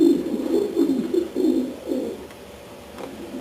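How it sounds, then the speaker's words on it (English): Racing pigeons of Janssen lineage coo in a loft of small breeding compartments, low rolling coos repeating in several overlapping phrases close by, fading toward the end. "This is a daughter out of my '05 cock, paired to a Van Osh hen"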